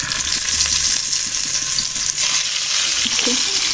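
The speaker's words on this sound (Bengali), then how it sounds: "এই যে কই মাছটি ভেজে নেব" Koi fish frying in hot oil in a pan, a loud, steady close-up sizzle with crackling spatters throughout.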